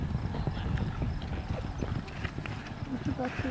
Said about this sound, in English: you hear something like a horse cantering behind you